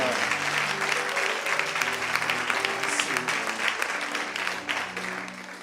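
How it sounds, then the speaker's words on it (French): An audience applauding in church: steady, dense clapping from a large crowd that fills the whole stretch and fades slightly at the end, with a voice faintly under it. "Est-ce qu'on peut encore l'acclamer?"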